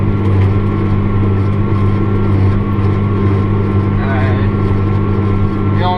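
The engine of a 245 tractor runs with a steady low rumbling drone and constant hum, close and loud, while someone talks over it.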